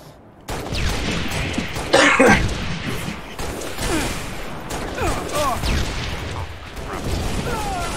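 Halo: Reach team slayer match on the Boardwalk map, with loud bursts of weapon fire and impacts crackling through the scene, a sharp blast near the second mark, voices talking over the action.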